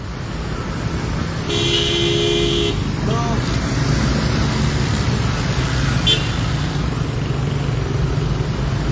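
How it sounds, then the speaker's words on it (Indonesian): Busy traffic at the Simpang 4 intersection in Pematang Siantar: a steady roar of passing cars and motorcycles with a short car horn toot and a few brief squeaks. "lalu lintas masih terlihat ramai padat"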